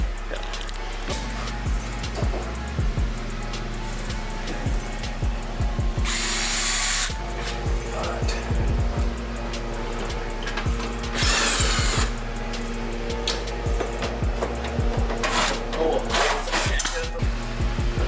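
A power tool zips off Torx bolts during a lift kit install. Repeated whirring bursts and ratcheting come close and loud, separated by clanks and handling noise, with people talking in between.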